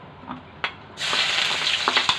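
Onion frying in a pot for Egyptian koshari, a soft crackle that swells into a steady loud sizzle with small pops, heard up close without talk.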